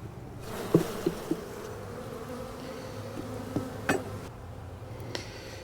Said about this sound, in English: You can see the bees are hatching out.